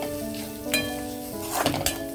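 Hot tempering spices hit a pan while making healthy pulihora tamarind rice, sizzling steadily with clinks and scrapes of a spoon against metal, no voices.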